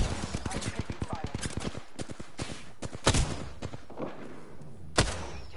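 Battle royale gunfire opens with a rapid, evenly spaced burst of automatic shots, then gives way to scattered single cracks and thuds, moderately close, with a voice faintly present.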